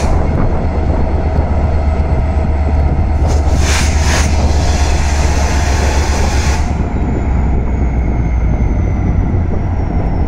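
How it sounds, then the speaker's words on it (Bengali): A large passenger train bound for Dhaka Kamalapur from Joydevpur runs at full speed: a loud, constant roaring rumble with heavy wind rush and rattling, close by, with no voices. "ট্রেনটি এখন ফুল স্পিড"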